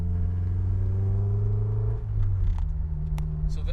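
A Honda S2000 engine holds a steady mid-pitched drone, then the note drops as the revs fall away, leaving a rumbling idle with a few faint clicks. Nearby and moderately loud.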